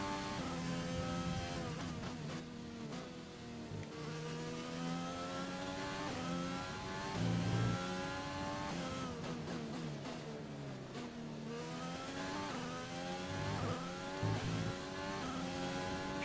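Race car engine in the F1 2020 video game at Bahrain, a continuous loud mid-pitched whine that climbs and falls through gear changes, revving steadily with no talk over it.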